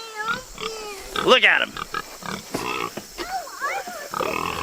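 Pigs on a homestead grunt and squeal in short bursts, close by, with one sharp squeal standing out midway, while people talk over them.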